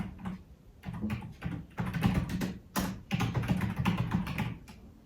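Someone types on a computer keyboard nearby, bursts of quick clattering keystrokes separated by short pauses, fairly quiet and alone.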